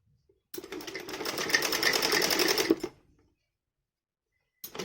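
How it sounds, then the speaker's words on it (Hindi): A sewing machine runs steadily for about two seconds, stitching fine seams on a dhoti salwar, then stops, leaving near silence. "बस ये बारीक बारीक सिलाई लगानी है आपने।"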